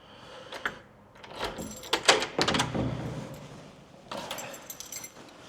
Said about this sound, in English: Coming through a security door.